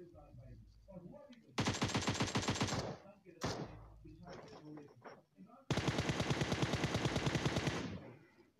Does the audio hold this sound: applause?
no